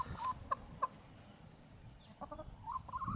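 Farm hens cluck nearby in short scattered calls, a few soft clucks early and a cluster of them toward the end over quiet background.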